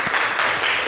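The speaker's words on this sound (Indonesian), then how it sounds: "Bagus, tepuk tangan." Classroom of seventh-grade students applauding together, a dense continuous wash of clapping for under a second, fairly close and steady.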